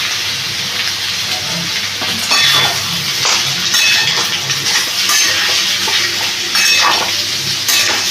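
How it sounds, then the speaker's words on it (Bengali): Pasta frying in a pan after vegetables have browned, a close sizzle with stirring and occasional clinks of utensil on metal. "এবার এখানে পাস্তাটা আমি দিয়ে দিচ্ছি।"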